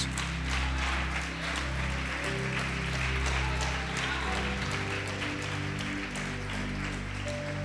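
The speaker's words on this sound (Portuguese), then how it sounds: "Pode aplaudir e glorificar Jesus" Church congregation applauding during a Portuguese-language sermon, a steady dense wash of clapping that holds at even loudness throughout, with a low droning hum beneath.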